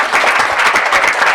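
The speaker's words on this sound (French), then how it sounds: "applaudissez très très fort pour le soutenir" A television studio audience breaks into loud, dense applause, a brief burst of many hands clapping close to the microphone.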